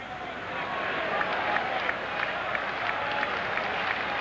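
A Fenway Park crowd at a Red Sox baseball game against Tampa Bay builds into a sustained roar with scattered clapping as a strikeout nears, broad and distant-sounding, with faint commentary underneath.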